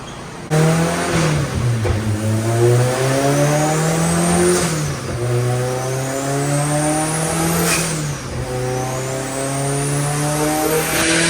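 A loud turbocharged Honda S2000 engine revs repeatedly to about 7,300 rpm on a dyno and drops back, a sustained roaring whine with several climbing sweeps, close and continuous.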